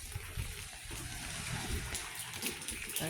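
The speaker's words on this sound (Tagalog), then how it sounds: "Walang tigil yung ulan dito." Steady rain falls on the way to a market, a dense continuous patter and splash close by with scattered heavier drips, no talk.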